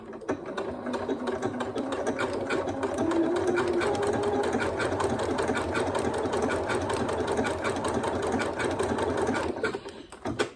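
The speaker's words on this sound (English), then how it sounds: "Now with any decorative stitch like this, it's going to go back and forth and then across" A sewing machine runs a decorative stitch on a cushion, its rapid needle rattle pulsing continuously at close range with slight shifts in pace and no speech over it.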